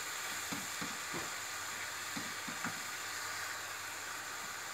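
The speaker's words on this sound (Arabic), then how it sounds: "نضيف هنايا القرعة نخلطو باش تجانس ليا المكونات مع بعض" Pumpkin is stirred into a filling mixture in a hot pan: several soft scraping strokes come in a loose rhythm over a constant faint sizzle.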